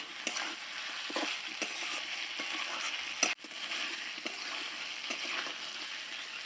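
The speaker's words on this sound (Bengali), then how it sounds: "আলু ফুলকপি দিয়ে ভালো করে মশলাটা কষিয়ে নিচ্ছি" Potato and cauliflower pieces fry in spiced masala in a hot pan, giving a steady sizzle broken by scraping stir strokes and one sharp clack near the middle, with no talking.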